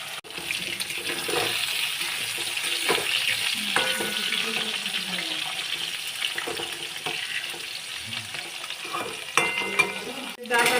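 Potatoes fry in hot oil alongside katla fish, giving a steady close sizzle with stirring scrapes and occasional clatter, and no talking.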